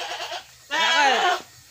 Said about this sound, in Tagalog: At papakawalan natin yung kambing natin.